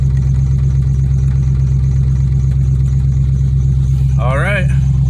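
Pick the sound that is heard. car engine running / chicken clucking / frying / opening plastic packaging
car engine running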